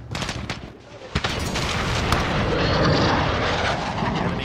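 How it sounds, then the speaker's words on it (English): Heavy VTOL aircraft fire in Call of Duty: Modern Warfare, during a hardcore Kill Confirmed match: a loud, sustained roar of rapid shots and explosions with a sharp early burst, dense and close, no talk. "Got the VTOL on station."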